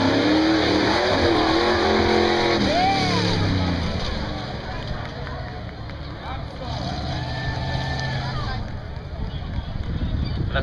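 A Super Street class mud truck races at a motorsports park, its engine revving hard with rising and falling pitch sweeps, loud at first then easing back, while an announcer talks over the PA.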